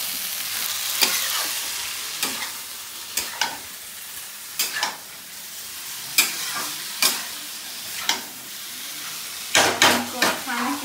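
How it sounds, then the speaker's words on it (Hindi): Potato and soybean pieces fry in a pan under a soft sizzle, while a spoon scrapes and stirs them in bursts that come quicker and closer together toward the end. "तो इसमें हम डाल देते हैं आलू और सोयाबीन। इसको डाल के अच्छे से भूनना होता है"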